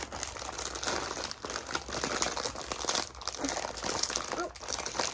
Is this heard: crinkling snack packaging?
yes